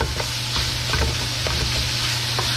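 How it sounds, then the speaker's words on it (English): Lean ground pork stir-fries in a pan for Thai basil pork, a constant loud sizzle broken by several quick scraping stirs in a brief stretch without speech. "You want to use relatively lean ground meat for this particular stir fry."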